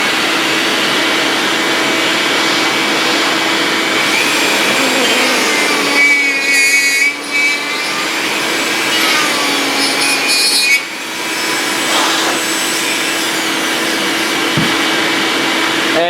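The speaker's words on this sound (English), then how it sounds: "let me kick on the Dremel tool real quick by the shop vac" A Dremel rotary tool cuts into a resin garage-kit bust with a loud, steady high whine, while a shop vac roars continuously alongside it and the pitch shifts slightly as the bit bites.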